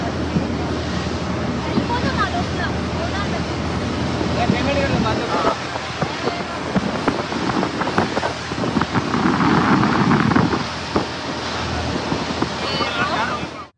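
A boat speeding at full throttle across the sea off Goa, its engine roar blending with loud wind buffeting and rushing surf and spray, steady and close throughout, with a voice talking over it.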